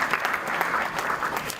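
Audience applause fills the space at a mushaira poetry recital, a steady dense clapping from a crowd that is close and fairly loud throughout a short burst, with no talking.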